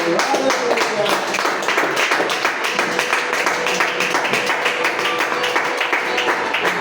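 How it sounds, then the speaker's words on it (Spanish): A church congregation claps during a celebration worship service, a dense, steady patter of many hands filling the room from start to finish, with voices mixed in beneath the clapping. "Démosle un aplauso al Señor."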